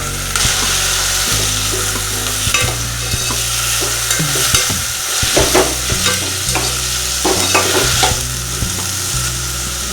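Tomatoes are tipped into onions sautéing in a pan for tomato rice, loud steady sizzling with repeated scraping and stirring strokes of a spatula throughout.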